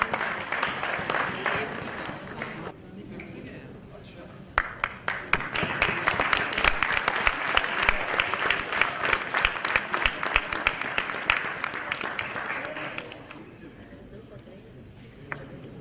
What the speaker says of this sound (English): Let's welcome that with a huge round of applause.